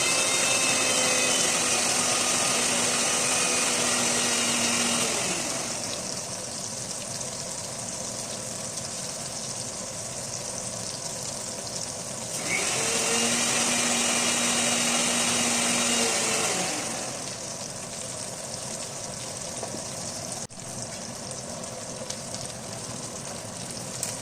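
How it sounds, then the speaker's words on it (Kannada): Crispy hotel-style fish fries in a pan, a continuous broad sizzling hiss that runs throughout, joined twice by a louder droning hum that swells for a few seconds and then drops away. "ಅದಕ್ಕೆ ಈ ಥರ ಸ್ಪೂನ್ನಿಂದ ಹೊಳಿಸಿ ಅದನ್ನು ಚೆನ್ನಾಗಿ ಫ್ರೈ ಮಾಡ್ಕೋಬೇಕು."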